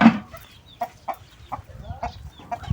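Several chickens clucking nearby in short, irregular bursts, with soft scratching and rustling between the calls.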